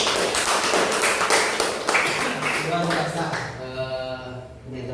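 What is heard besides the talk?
class clapping hands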